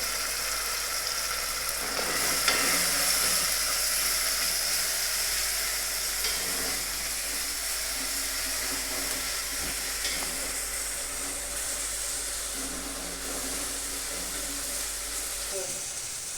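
A paste of tomato, chili, ginger and garlic fries in oil with a continuous, fairly loud hiss and sizzle lasting throughout, broken by occasional faint stirring scrapes.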